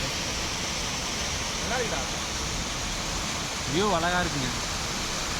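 Cold mountain water rushes steadily at Valparai, a constant broadband roar of a stream or waterfall close by, with a person talking briefly over it.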